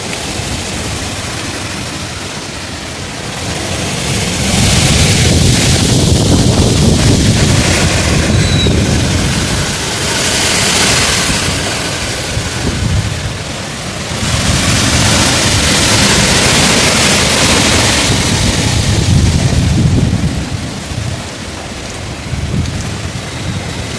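Loud roaring Hurricane Beryl wind in powerful surging gusts with heavy rain lashing down, tossing trees, rising and falling in waves across the whole stretch.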